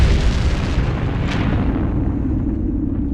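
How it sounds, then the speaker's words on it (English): A cinematic supernova explosion effect: a massive dying star collapsing, rendered as a deep, sustained rumbling roar with a brief brighter burst partway through, loud throughout and gradually thinning toward the end, with no voices. "igniting a supernova explosion."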